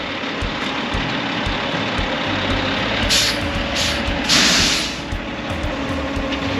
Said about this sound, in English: Concrete truck's here.